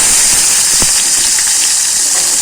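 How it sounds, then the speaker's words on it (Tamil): Onions and tomatoes frying in a pan, heard as a loud, steady, close hissing sizzle with faint crackles scattered through it, and no voices. "வெங்காயமும் தக்காளியும் நல்லா பொரிஞ்சிடுச்சுங்களா"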